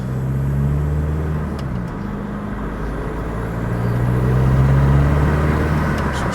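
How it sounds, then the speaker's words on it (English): An old Volkswagen Bora drives along, with a loud, steady engine and road rumble heard from inside the car, swelling slightly as it picks up speed. "let's take the old Bora for a little spin"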